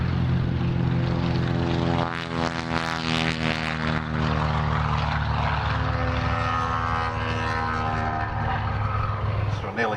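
An Avenger propeller aircraft taxis out at the Wings Over Illawarra airshow, its piston engine giving a steady, loud droning hum with a rich harmonic tone that persists throughout.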